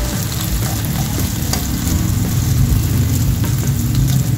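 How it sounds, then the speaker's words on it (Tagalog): Garlic sautés in reduced oil in a wok while tilapia and bottle gourd are cooked, producing a loud, steady close sizzle broken by occasional stirring clatter, with no one speaking. "Ilalagay na rin natin guys yung bawang."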